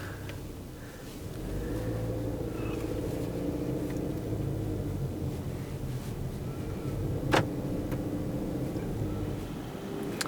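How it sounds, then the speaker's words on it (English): A 2023 Subaru Ascent is driving, heard from inside as a steady low engine and road hum with one brief sharp click, and no voices. "So we'll go ahead and start driving."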